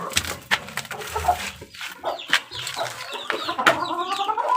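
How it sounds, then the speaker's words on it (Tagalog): A chick and a rooster in a backyard coop cluck repeatedly at close range, with short irregular calls and soft chirps overlapping over a quiet background, with no talking. "Yung itong aking sisiw."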